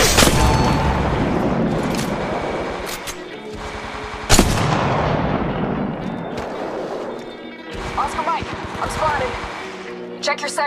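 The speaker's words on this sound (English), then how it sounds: "Being attacked by another squad. Firing. Taking fire." Gunfire in the mobile battle-royale game Apex Legends Mobile: dense bursts of rapid shots and booming impacts that run almost continuously, loud and close, with in-game voice callouts layered over the firing.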